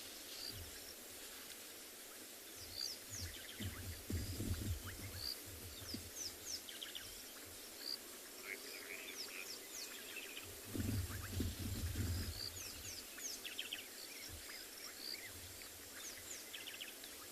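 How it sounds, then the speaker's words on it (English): Several birds call and chirp in scattered bursts through a quiet evening on a sunset safari, fairly distant, over a low steady background hum. "I can just hear a couple of birds calling"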